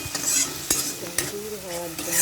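Spice masala for ghugni fried in a pan and stirred, with a continuous oily sizzle broken by several sharp scrapes and knocks of the spoon against the pan, close and fairly quiet.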